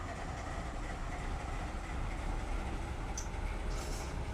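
In the Run 8 train simulator game, a freight train rolls past on the track with a continuous low rumble and steady wheel clatter, fairly close, with a faint high squeal near the end and no talking.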